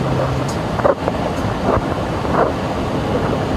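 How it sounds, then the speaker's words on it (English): Strong, steady storm wind roars and buffets the microphone continuously, a loud broadband rush with occasional gusting thumps. "It's about to get real windy."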